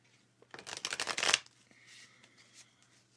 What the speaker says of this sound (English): Tarot ASMR, getting those good shuffly noises in there.